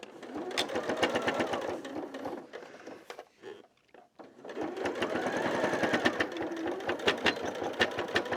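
A sewing machine stitches a seam on a Christmas tree skirt, running in steady rapid bursts with a brief pause in the middle before resuming, close and fairly loud with no talk.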